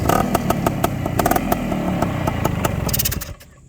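A single-cylinder two-stroke Ossa 350 motorcycle engine revs loudly and raspily with a rattling, buzzing exhaust, holding steady before cutting off abruptly near the end.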